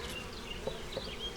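A dense, steady buzzing drone of many honey bees close by, with no pauses.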